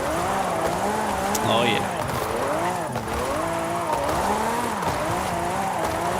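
Lamborghini sliding sideways in Forza Horizon 5, played with a Fanatec steering wheel: a steady engine note rising and falling in wavering pitch sweeps as the car drifts, with a short tire squeal and someone talking over it.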